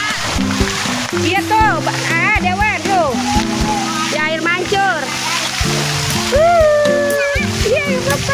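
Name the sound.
child swimming and splashing in a swimming pool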